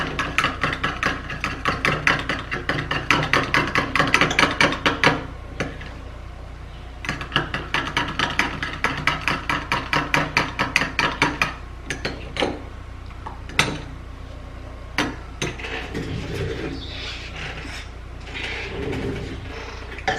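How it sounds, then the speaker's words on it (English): A skincare mixture is stirred by hand in a container, giving rapid bursts of clinking and scraping that stop for a pause, then resume more sparsely, close and fairly loud, with no one talking. "give it a good stir"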